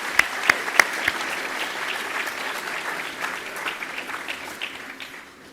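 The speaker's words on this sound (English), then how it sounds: "How about a nice round of applause for a wonderful meal and your service?" Audience at an award dinner honoring Chip Ganassi gives a steady round of applause, a few sharp claps up front and then dense even clapping that fades toward the end.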